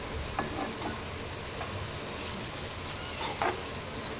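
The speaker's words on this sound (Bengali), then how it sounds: "পেঁয়াজ আর মশলা দিয়ে শুধু মগজটা ভুনা করে নেব" Brain fries with onions and spices in a pan: a steady close sizzle with a few brief scraping stir strokes and no talking.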